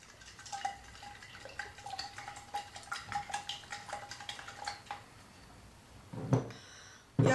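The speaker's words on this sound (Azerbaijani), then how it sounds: "Və tam qəhvə qarışana qədər qarışdırırıq bunu." A spoon stirs a coffee mixture inside a glass jar, giving a run of quick light clinks and scrapes against the glass, with a louder knock near the end.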